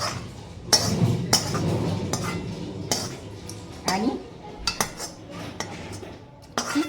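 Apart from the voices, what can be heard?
cooked chicken transferred into another kadhai, utensils clinking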